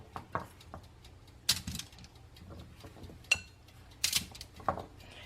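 Potatoes being moved onto an already oiled roasting pan, giving scattered clinks, scrapes and soft thuds of utensil and food against metal, close and intermittent with no speech.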